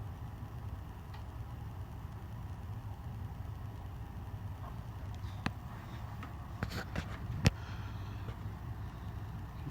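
A 56-inch Compton Greaves industrial ceiling fan with a new motor and heavy custom steel blades runs at a quiet, steady hum, broken by a few faint clicks and ticks near the end.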